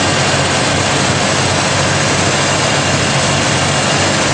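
Idling exhaust of a Jeep straight-six engine fitted with a one-device-per-cylinder fuel system, a loud, steady, smooth rumble close to the tailpipe with no sputtering, running alone without talk.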